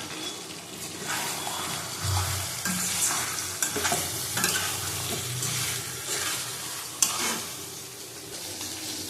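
Mutton is stir-fried in a pan for kosha mutton with dry chili powder, giving a loud continuous sizzle with rhythmic scraping stirs, all close and without talk.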